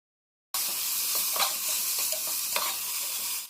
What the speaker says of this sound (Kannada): ಈಗ ಟೊಮೆಟೊ ಹಾಕಿ ಒಂಚೂರು ಫ್ರೈ ಮಾಡ್ತಾನೆ.